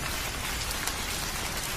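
Heavy rain pours steadily in a cartoon scene, a dense, even hiss of drops on surfaces that fills the whole stretch without pause.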